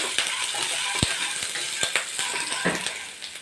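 A grated ginger mixture being stirred in a pan, with repeated scraping knocks of a spoon against the pan over a steady sizzle, close and moderately loud.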